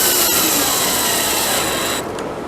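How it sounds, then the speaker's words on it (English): A power drill whines loudly and close by as it drives a screw into a wooden crossbar dowel on a fishing pole rack. The motor runs steadily for about two seconds, then eases off. "I'm holding this crossbar dowel in with a screw."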